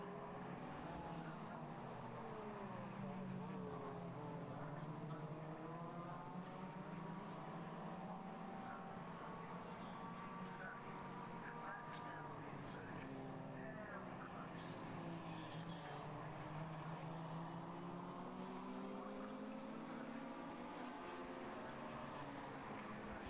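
Racing cars, including a Ginetta and a Peugeot, lap Brands Hatch circuit, engine notes rising and falling as they pass at a distance in a continuous, moderately loud stream.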